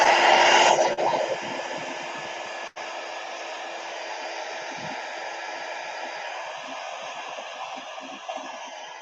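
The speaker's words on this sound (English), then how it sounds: "Heat gun." Heat gun blowing steadily at close range while decorating a wooden watercolor box, a loud broadband airy rush that starts strongest and settles into a constant even whoosh with no talk.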